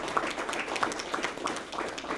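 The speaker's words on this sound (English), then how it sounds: "let's give this group a round of applause again" Applause from a crowd at a jet engine production plant launch, a dense, moderately loud wash of clapping with soft rhythmic peaks throughout.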